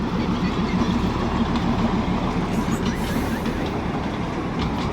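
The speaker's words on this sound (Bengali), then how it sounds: "ওই দেখুন আসছে টয় ট্রেনটা কিন্তু আসছে" The Darjeeling toy train passes on the Batasia Loop with a steady, close rumble of wheels and carriages and faint rhythmic clatter running without pause.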